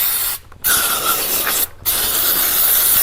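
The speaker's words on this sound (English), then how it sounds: "The first thing we're going to do is take some brake clean." An aerosol can of brake cleaner sprays into a Generac SVP 5000 generator carburetor in three hissing bursts, with two short pauses between them, close up and loud.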